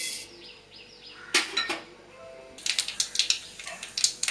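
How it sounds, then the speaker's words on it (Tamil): Sharp crackling pops and spits from mustard seeds spluttering in hot oil, sporadic at first, then a rapid cluster of bursts, close and fairly loud. "இப்போது கடுகு வெடிச்சிருச்சு"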